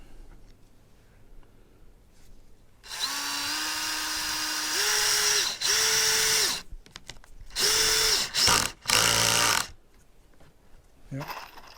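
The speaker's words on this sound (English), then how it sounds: "So let me just put the screws on this one." A power drill drives screws into a 30-year-old redwood deck cabinet under repair, running in several loud, close bursts of whirring with short pauses between them and a final quick stop-start.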